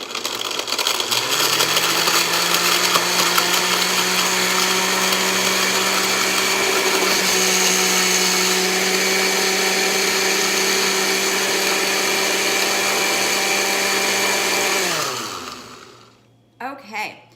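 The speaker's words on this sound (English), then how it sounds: "I'm gonna go ahead and blend this all up for you" A blender whirs steadily and loudly at a constant pitch blending a green smoothie, then winds down and stops, followed by brief faint sounds.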